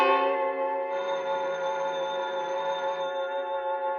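A telephone bell rings steadily in a radio suspense drama, a bright metallic ring held for about four seconds at fairly close range, alone with no voices over it.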